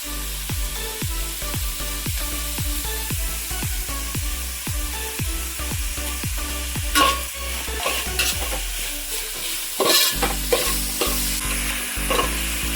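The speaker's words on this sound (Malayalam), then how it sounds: "ഇനി നമുക്കിതൊന്ന് അടച്ച് വെച്ച് ഉള്ളി ഒന്ന് വഴണ്ട് വരട്ടെ" Onions and salt sauté in a pan for a Kerala fish-head curry, a spoon scraping and stirring in quick regular strokes over a continuous sizzle, then a few louder clanks near the end; no talking.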